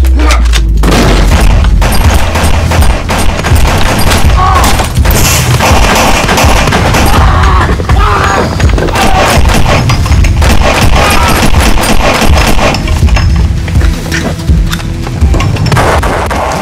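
Rapid bursts of gunfire and booms from a staged shooting scene in a crime film, loud and dense, with repeated shots overlapping throughout and no clear talk.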